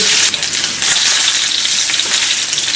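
Lamb cutlets sear in a hot, uncrowded pan with a loud, steady sizzle and crackle that runs on without a break.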